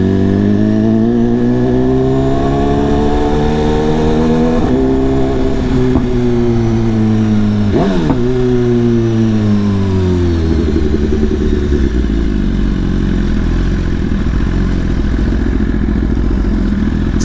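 A BMW S1000RR motorcycle rides through Manhattan traffic in New York City, its engine loud and close throughout, revs rising and falling with gear changes, plus wind rush and clatter.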